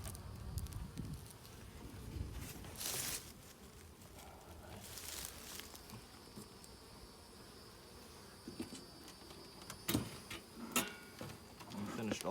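Honey bees at an opened hive during an inspection, a faint continuous buzzing hum under handling clatter, soft taps and brief rustling bursts, quiet and close.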